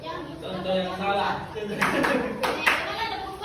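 Hands clap out a counted sequence in a lively group setting, several sharp claps standing out among background chatter and children's voices.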